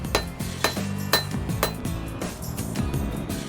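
A blacksmith hammers metal in a small forge, sharp ringing clanks landing in a quick, uneven rhythm of roughly two strikes per second, close and clear with no talking.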